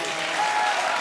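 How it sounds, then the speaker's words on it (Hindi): A studio audience on a comedy show stage bursts into dense, loud clapping, a brief continuous wash of applause with no voices over it. "ताली बजा बेटी के लिए,"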